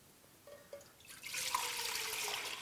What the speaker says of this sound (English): Okay, I just poured it back into this pot here.